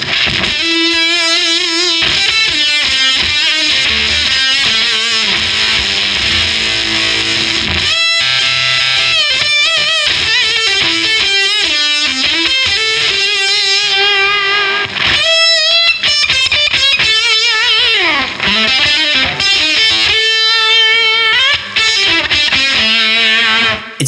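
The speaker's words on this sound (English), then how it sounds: "Just a touch of that phaser thing." An electric guitar through a JPTR FX Silvermachine Mini octave fuzz pedal with a sweeping phaser, loud sustained notes and bends played alone over about twenty seconds.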